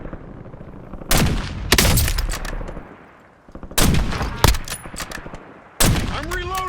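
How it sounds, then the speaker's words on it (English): Gunfire in the Warzone video game: loud, close shots in separate clusters, each a sharp crack followed by a short run of rapid follow-up rounds, with brief quieter gaps between the bursts. "Enemy soldier incoming. Taking effective fire."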